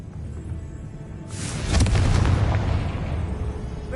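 The Confringo fire spell exploding in Hogwarts Legacy, a sudden rushing burst that swells into a deep, rumbling boom and slowly fades, heard alone without talk.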